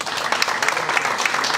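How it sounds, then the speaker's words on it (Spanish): A short burst of dense, close audience applause at a ceremony for a municipal gastronomy route, even clapping with no pauses and no voices. "Quiero darle una felicitación y un gran aplauso"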